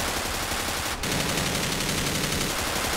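M4 rifle gunfire in GTA 5, rendered as a steady, dense, continuous rattle of automatic shots at close range, with a brief dropout near the one-second mark before the firing resumes at the same level.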